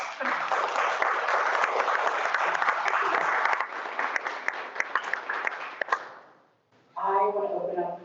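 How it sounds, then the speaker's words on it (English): An audience applauds three student artists at a Rollins College panel: steady, full clapping for about six seconds that fades out, then a speaker begins talking. "Can we give them a round of applause?"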